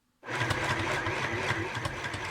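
A sewing machine stitches fabric in a steady, fast, loud mechanical whir that starts abruptly and runs continuously with a rapid rhythmic chatter, with no talking.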